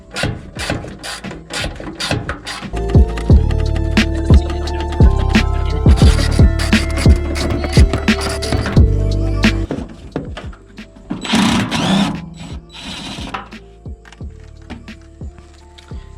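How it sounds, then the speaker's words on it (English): A ratchet with a 7/16 socket turns a bumper retaining nut on a car's front end, giving close, rapid clicking bursts with metallic rattles and pauses between strokes. "So we're gonna take our ratchet with our 7/16 on here"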